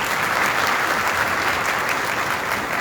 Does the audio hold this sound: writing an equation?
no